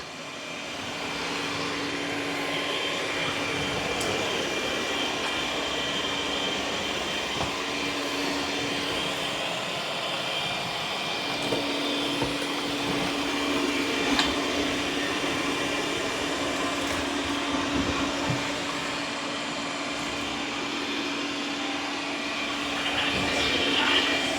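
A Mova E30 Pro Plus robot vacuum cleans a floor with a steady, loud motor whir and fan hum that keeps on with only small shifts as it moves back and forth, and no one speaks.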